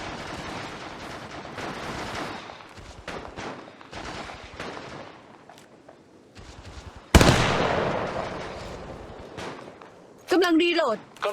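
Gunfire in the mobile game Apex Legends Mobile: rapid bursts of automatic shots and scattered single cracks, then a loud blast-like burst, with a game voice talking over the action.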